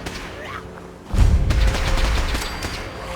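Gunfire from a 10mm pistol in the video game Fallout 4, a burst of loud booming shots after a quieter opening, with several overlapping reports and a faint voice beneath.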